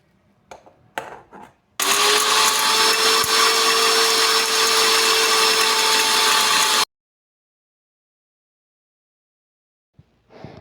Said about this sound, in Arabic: غادي نخلطوا الأعشاب مع بعضهم ونطحنوهم.